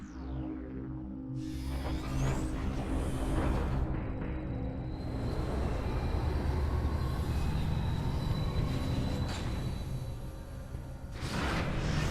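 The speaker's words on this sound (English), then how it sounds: "I just arrived, said where I wanted to go, and the train arrived" An electric train in the Metroid Prime 3 video game arrives and runs past, a loud, sustained rumble with a rising whoosh at the start and a steady rolling roar throughout.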